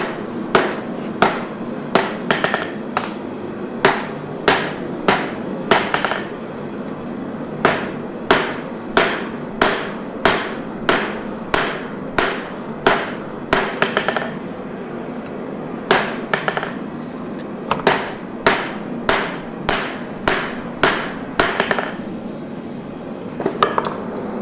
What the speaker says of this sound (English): I'm going to hammer on this blade just a little bit more